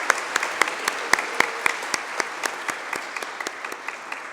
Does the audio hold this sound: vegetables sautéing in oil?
no